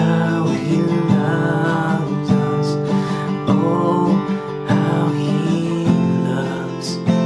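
Guitar strums the chorus of How He Loves in a steady, continuous rhythm, full and close with chord changes every second or so and no one talking.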